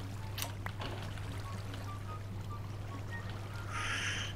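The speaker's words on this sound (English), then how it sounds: "Goddamn water!" Flowing water from the game Minecraft gives a steady, fairly loud pouring and trickling wash that runs through the whole stretch. A low constant hum sits underneath, and a brighter hiss rises near the end.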